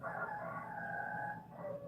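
A rooster perched on a home's railing gives one long drawn-out crow, fairly close and clear, tailing off into a short final note with no talk over it.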